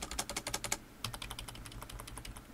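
Someone types on a computer keyboard, a quick run of crisp, close key clicks, a brief pause, then another steady burst of keystrokes, with no voices.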